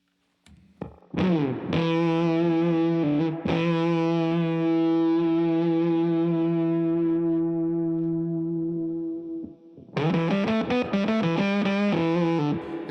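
Electric guitar notes run through the Fat Synth setting of a Kingtone Octaland octave pedal, buzzy and rounded, held long and sputtering slightly as they decay.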